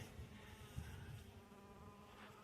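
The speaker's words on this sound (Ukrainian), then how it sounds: "Бджоли поки дають працювати, ось одна щось доколупалась до мене" Bees hum around wild forest hives in Polesia while honey is being harvested, a faint steady buzz with one insect passing close, no voices.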